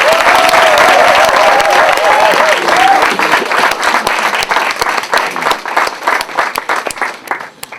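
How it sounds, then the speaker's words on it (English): A crowd at a high school National Letter of Intent signing day applauds loudly for the student athletes, with a voice over the opening seconds before dense clapping takes over and gradually thins into scattered claps. "Let's give these young people a round of applause,"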